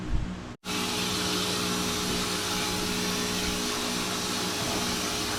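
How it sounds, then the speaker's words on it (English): A vacuum cleaner roars steadily and close by in a garage during work on a supercharged MG ZT 260 V8, its motor cutting out for a split second early on before resuming a constant drone. "I think I'll have to get the vacuum cleaner."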